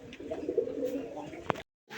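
A white grizzle pigeon hen gives a short, close, throaty coo lasting over a second, with a light tap near the end.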